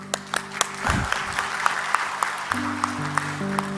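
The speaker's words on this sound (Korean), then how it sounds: "박수 한번 쳐주시기 바랍니다." Applause from a church congregation during a Sunday worship service, scattered claps with a few sharp distinct hits over a room wash, fairly close and steady, alongside a brief voice and sustained tones.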